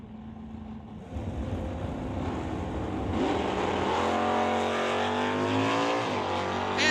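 Drag race cars, including a 1969 Dodge Dart, roar loudly at a strip, the engine note climbing in a steady rising whine over a continuous rumble that swells after the first second and holds strong to the end.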